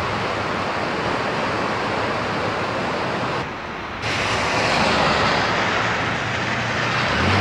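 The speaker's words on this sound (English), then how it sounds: "As you can see, creek is overflowing its banks." Floodwater from a creek overflowing its banks rushes loudly and continuously beside a road in the Salem, Oregon area during the 1996 flood, with a brief dip partway through.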